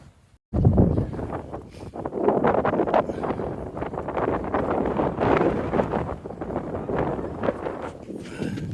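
Strong wind buffets the microphone after a brief quiet start, a steady rough roar that swells and dips for several seconds.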